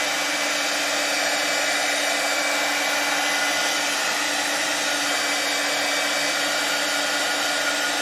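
A heat gun blows hot air in a steady, continuous whooshing roar with a constant tone, close and loud throughout, with no pauses or talking.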